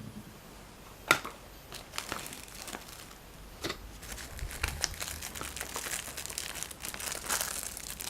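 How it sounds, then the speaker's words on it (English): Crinkling, rustling plastic bag handled close by in irregular bursts, with a sharp crackle early on and busier rustling toward the end. "Oh, there's a plastic bag here."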